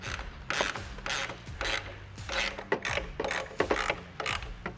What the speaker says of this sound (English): then we'll tighten the screws